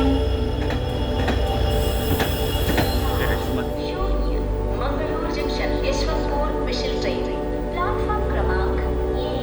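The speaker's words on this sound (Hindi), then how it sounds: "9:15 और हम डिपार्ट कर रहे हैं मैंगलुरु जंक्शन से।" Passenger train hauled by a WDP 4D diesel locomotive departing Mangaluru Junction, with a steady low rumble, rolling wheel noise and occasional high squeals under faint voices.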